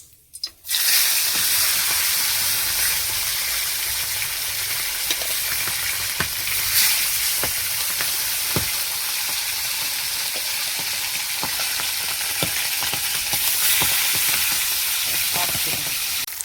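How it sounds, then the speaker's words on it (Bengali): Fish pieces are frying in hot oil in a kadai, with a loud, continuous crackling sizzle and scattered sharp pops running steadily for the whole stretch. "তেলটা গরম হয়ে গেছে, এবার মাছ তুলে দিচ্ছি। মাছটা ভেজে নেব ভালো করে।"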